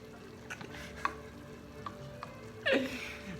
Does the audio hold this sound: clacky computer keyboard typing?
no